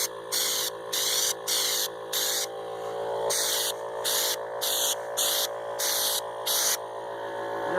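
A spray gun applies Raptor liner coating to a truck in about ten short, loud hissing bursts, each roughly a second or less with brief pauses between, over a low steady compressor hum.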